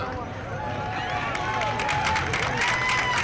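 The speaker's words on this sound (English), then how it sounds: "you can clap loud enough" Scattered clapping and cheering from a crowd at an outdoor political rally on Boston Common, moderately distant, with crowd murmur and voices underneath.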